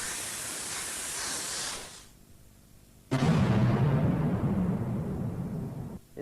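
Airbrush spraying light coats of paint on a custom motorcycle helmet, a close, steady hissing spray that cuts off briefly, then resumes as a louder, rougher airflow rush.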